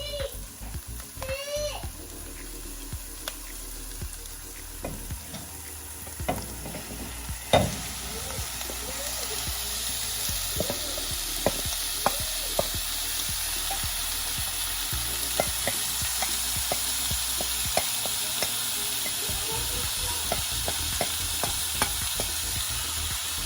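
Ground meat browns in a pot for lasagna, a steady frying sizzle running throughout while a utensil scrapes and stirs it in irregular knocks and clinks, close and moderately loud.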